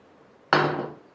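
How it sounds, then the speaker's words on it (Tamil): Water poured into a hot pan of goat head curry gives a sudden loud hiss and splash that fades over about half a second, with no talk. "இப்போ தண்ணி ஆட் பண்ணிக்கலாம்."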